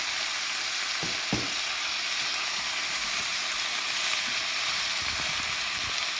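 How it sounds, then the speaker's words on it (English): Teriyaki bowl ingredients frying in a pan with a steady loud sizzle throughout, broken by a few sharp scrapes and knocks of a silicone spatula as the food is stirred, with no voices. "I'm going to get these guys coated in, and I'm going to continue to stir it here."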